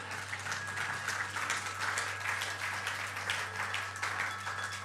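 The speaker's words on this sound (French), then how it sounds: "vous pouvez applaudir" Congregation applause during a church sermon, a fairly soft, continuous patter of clapping with a low steady hum underneath, no speech over it.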